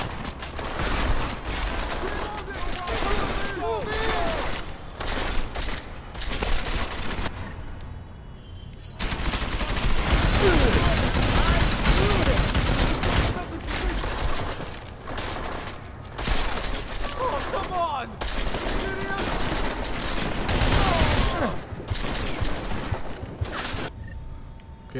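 Loud, dense bursts of automatic gunfire in the action game Deus Ex: Mankind Divided, with repeated volleys and a heavier, sustained barrage through the middle and again toward the end.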